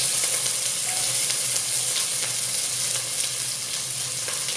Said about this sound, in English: we're going to start with some extra virgin olive oil, and you should put that in a relatively hot pan. And to that we are going to be adding in some onions